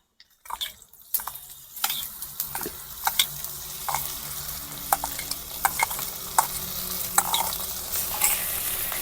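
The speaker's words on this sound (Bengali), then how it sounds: "এই মুগ ডালগুলোকে আমি মশলা দিয়ে একটু ভেজে নেব" Mung dal fries with spices and cumin in a wok, a close sizzle punctuated by repeated scraping stirs and light clinks after a short silent start.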